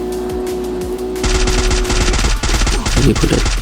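Rapid gunfire from an AWM sniper rifle in the Free Fire video game bursts in loud and close after a second of quieter game ambience, with a steady low hum underneath.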